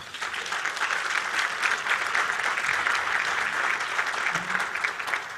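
Dinner guests at a nonprofit celebration event give sustained, evenly textured applause, a crowded roomful of clapping that carries steadily for several seconds, with a faint voice briefly heard beneath it.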